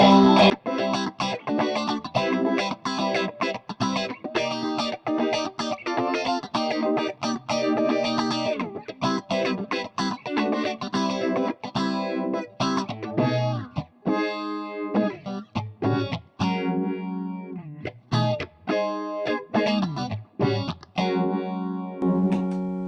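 An electric guitar riff played through a Pigtronix Envelope Phaser pedal, the swooshing filter opening up on harder-picked notes, loud and continuous with no voices.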